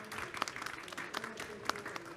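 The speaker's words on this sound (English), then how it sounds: "please give a round of applause to our distinguished panelists" Conference audience claps for distinguished panelists at a transport policy session, a modest crowd's scattered hand claps with a few sharper individual claps, fairly quiet with a faint hum underneath.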